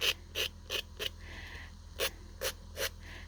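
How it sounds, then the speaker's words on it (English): A tool scraping paper while making paper doll house furniture, heard as about seven short, close rasping strokes in two bursts with brief pauses between them. "I'm just coming in here and just scraping a little bit of it off with this."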